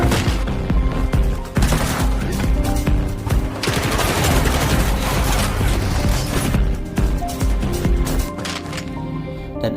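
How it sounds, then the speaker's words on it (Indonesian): Rapid bursts of gunfire crackle continuously, loud and close, with overlapping shots and impacts before easing slightly toward the end. "Kang masih main tembak-tembakan sama anak buah Jang Myung-jun."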